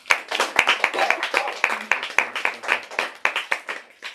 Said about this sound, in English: Let's give Jen one more round of applause.